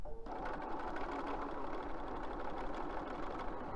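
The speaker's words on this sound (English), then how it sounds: "I'm just stitching right back inside of there" A sewing machine stitches through a fabric basket at a steady fast whir, close and continuous after a brief start, with faint mechanical clatter underneath and no speech.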